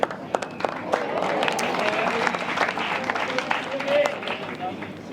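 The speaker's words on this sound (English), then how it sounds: "There's a nervous clap there of that bowl" Scattered, nervous applause and a few claps from a crowd at a bowls championship men's fours final, Scotland against Australia, steady and moderate under a murmuring audience.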